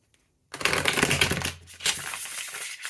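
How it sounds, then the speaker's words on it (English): After a brief silence, a tarot deck with bendy, springy cards is riffled and shuffled, a loud close flurry of papery flutters that pauses briefly and resumes. "enjoyable about shuffling this deck"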